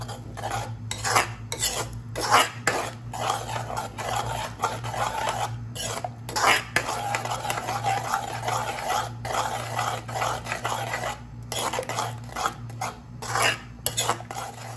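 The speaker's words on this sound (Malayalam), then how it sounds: "മുട്ട ചേർത്ത് കൊടുത്തിട്ട് അടി പിടിക്കാത്ത രീതിയിൽ നന്നായിട്ട് ഇളക്കി കൊടുക്കണം." A spoon stirs beaten eggs for egg bhurji in a pan, scraping the bottom in quick, repeated strokes with short pauses, close and clear over a steady low hum.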